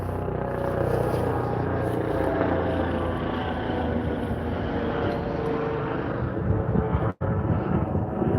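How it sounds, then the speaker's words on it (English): Aircraft rotor and engine drone, loud and continuous overhead, a dense steady roar with a brief dropout near the end. "See, they send the helicopter."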